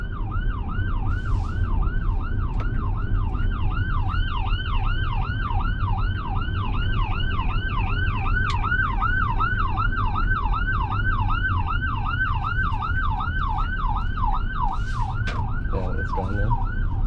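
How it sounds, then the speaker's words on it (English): An emergency vehicle siren wails in steady rising-and-falling sweeps, loud and close, over the constant hum of a car driving on the road. "an emergency vehicle coming up,"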